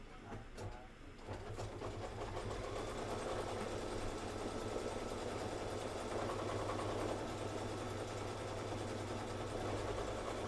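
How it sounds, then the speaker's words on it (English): A sewing machine runs steadily, stitching fabric down for a quilting project, with a continuous mechanical whir and rapid needle rhythm after a brief start, moderately close. "you can go ahead and stitch that down."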